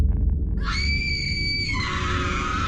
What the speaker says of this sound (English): At this moment, a female classmate let out a scream